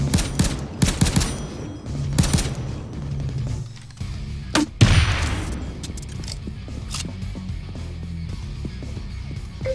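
Gunfire from the Payday 2 video game, with bursts of rapid shots early on and scattered single taps and impacts afterward, loud and close against a background of in-game noise.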